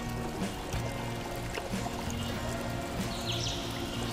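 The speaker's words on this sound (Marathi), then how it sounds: "असा हा भारतातला एकमेव आणि युनिक असा वॉटरफॉल आहे जो 90 डिग्रीमध्ये कोसळतो" Devkund waterfall in Maharashtra, India, drops water vertically down a sheer wall. It makes a continuous, even rushing roar with no speech over it.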